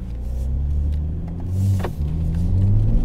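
Deep, rumbling 6-cylinder car exhaust with a 200-cell downpipe and mid pipe, a steady low drone with slight swells and a faint crackle, heard close with no talk.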